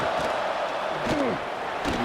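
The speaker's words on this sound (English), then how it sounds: "Listen to the crowd energy here in the early going." Stadium crowd roaring steadily throughout at a college football game against #12 Ole Miss, a dense, constant wash of cheering with a few louder swells and whistle-like rising tones.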